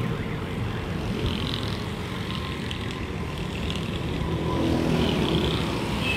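Road traffic with cars and motorcycles passing on a street in Sindh, a continuous engine rumble and hum at moderate distance that swells slightly toward the end.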